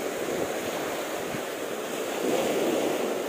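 Sea waves rolling onto a choppy shore during a fishing trip, steady surf wash with wind buffeting the microphone, a continuous broad roar swelling slightly near the end.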